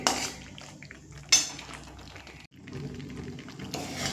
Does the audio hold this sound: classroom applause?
no